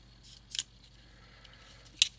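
Two short, sharp snips of scissors, spaced more than a second apart, close by in an otherwise quiet space.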